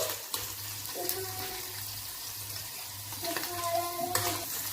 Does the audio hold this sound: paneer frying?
yes